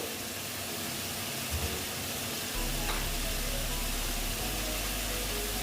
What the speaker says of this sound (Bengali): আলুর সঙ্গে ভালো মতন কষিয়ে নিচ্ছি